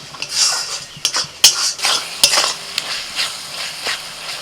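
Spices fry in a pan with tomato paste, ginger-garlic and green chilli, making a close sizzle under sharp spoon clinks and scraping stirs against the metal, with no voices.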